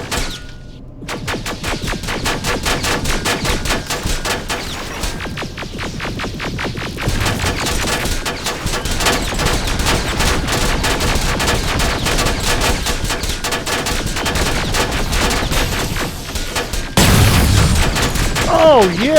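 Sustained turret machine gun fire in Terminator Resistance, a long, loud run of fast, evenly spaced shots over booming low rumble, ending in a heavier burst near the close.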